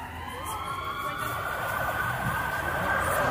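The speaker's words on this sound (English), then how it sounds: "why did the ambulance go, wah, wow?" Wailing emergency siren, an ambulance passing on a city street, holding steady and fairly loud across the clip over traffic noise.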